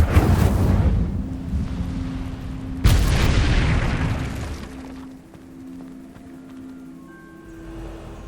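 The Incendio fire spell from the video game Hogwarts Legacy goes off in a loud, roaring blast. A second heavy burst follows, then the rumble fades into quieter ambient game tones.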